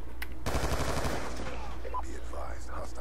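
Rapid automatic gunfire in Call of Duty Black Ops 2 multiplayer, a dense burst of repeated shots that starts abruptly and then gives way to a noisy battlefield wash with scattered smaller effects.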